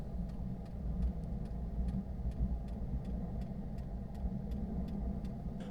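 A diesel heater fires up and runs inside a truck camper in winter, a low steady rumbling hum with a faint regular ticking pulse repeating about every half second, fairly quiet and with no voices.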